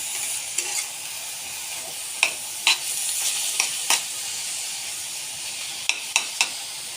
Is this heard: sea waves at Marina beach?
no